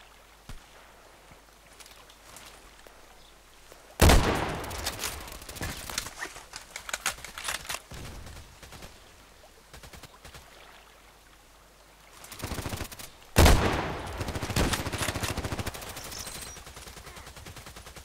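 Sniper rifle shots from an M40A6 in the Contract Wars game on a night lighthouse map: a few sharp loud cracks with echoing tails, the strongest around four and thirteen seconds, amid quieter ambient game noise.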